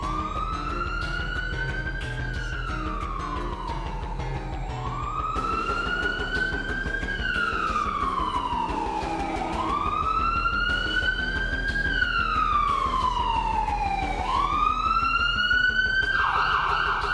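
An ambulance siren wails continuously, its pitch sweeping up and down in a slow repeating cycle, loud and close, with steady traffic rumble underneath.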